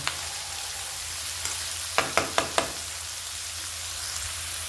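Vegetables and green peas fry in a pan with a steady, moderate sizzle, broken by a quick run of four sharp spatula taps against the pan midway, close and without talk.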